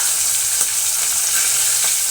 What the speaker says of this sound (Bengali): তাই জন্য মাছ ভাজা বসিয়ে দিচ্ছি এই শোনো